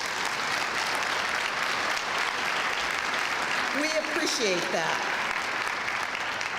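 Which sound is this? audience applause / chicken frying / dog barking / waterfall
audience applause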